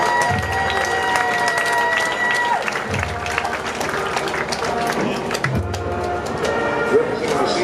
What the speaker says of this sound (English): Let's give a round of applause for the homecoming representatives of the class of 2025.